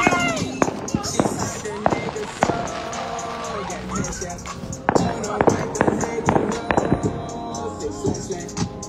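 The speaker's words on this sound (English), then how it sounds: "That's fireworks too." Outdoor Independence Day fireworks pop and crackle in rapid, irregular bursts, some sharp and close, others trailing off with fizzing crackles, while voices talk intermittently over them.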